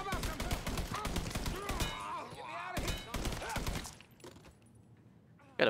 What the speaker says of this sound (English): Gotta burst fire this gun, because it is not accurate.